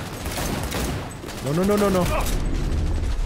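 Rapid bursts of gunfire from a firefight in Cyberpunk 2077 crackle close and loud, with a short spoken word cutting in midway.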